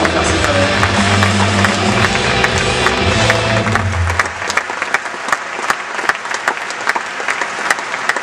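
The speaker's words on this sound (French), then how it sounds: "On va les applaudir, je pense." Audience applause at a corporate evening event honouring cycling teams, loud sustained clapping that starts under a low musical hum and continues alone after it fades, with crisp individual claps throughout.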